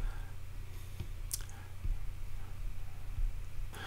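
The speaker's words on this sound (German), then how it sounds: "Also ich klicke auf den Knoten, dann auf das Bild hier oben." A computer mouse clicks while someone works in a mind-mapping web app, giving a few sharp, separate clicks spread irregularly over a low steady hum.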